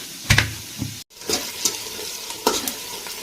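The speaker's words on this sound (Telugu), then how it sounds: "మనకు ఉల్లిగడ్డలు ఫ్రై అయిపోయినాయి" Onions frying in a pan while being stirred, with a soft steady sizzle broken by several sharp scraping stirs of a spoon against the pan; no talking.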